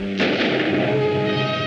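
A loud burst of gunfire rings out from an old horror movie scene, then a booming echo fades away, with no voices over it.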